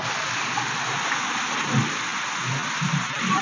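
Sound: rain falling

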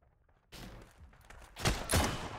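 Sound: gunshots in a video game, sniper headshot

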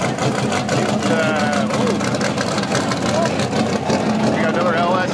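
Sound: LS Turbo drag car engine idling

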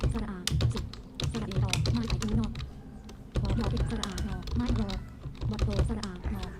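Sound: typing a search query on a computer keyboard

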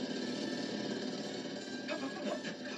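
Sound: jackhammer mistaken for an automatic pogo stick

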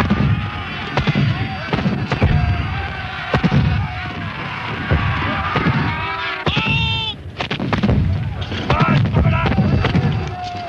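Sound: artillery cannon fire at the Battle of Culloden

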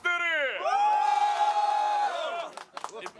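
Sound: wedding guests cheering for the groom

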